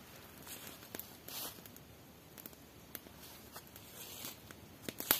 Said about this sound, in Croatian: Ja to čujem ko da ide neko